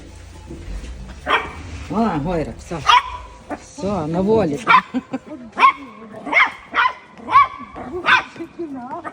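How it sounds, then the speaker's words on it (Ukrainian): A dog whines and yelps in high, wavering cries, then gives a series of short barks, close by, with people talking over it. "Не гавкає він пищить"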